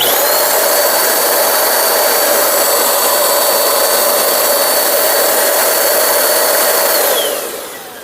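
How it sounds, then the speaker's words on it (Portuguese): A vacuum cleaner motor runs on a Bluetti AC60P portable solar power station, giving a loud, steady whine with a broad roar that holds for about seven seconds and then begins winding down. "Nosso aspirador aqui com o motor, e vamos já ver esse testezinho de potência."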